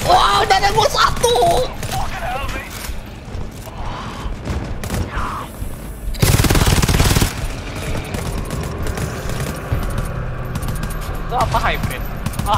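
Bursts of automatic gunfire rattle in the co-op shooter GTFO as players fire down from a raised position, with rapid volleys, a loud sustained burst midway and scattered shots, while players talk over the action.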